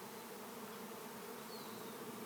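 A bee swarm drones in a dense, continuous hum at a swarm-capture container outdoors, with many insects buzzing together evenly throughout and no voices.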